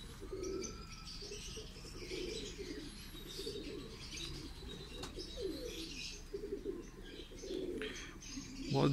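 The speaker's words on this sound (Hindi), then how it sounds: "मैरो वाली ब्लड लाइन में से है ये कबूतर।" Pigeons from a Mehron bloodline pair in Lahore coo softly in low repeated phrases, with faint chirps and a little wing rustle in the background, fairly quiet and without talk.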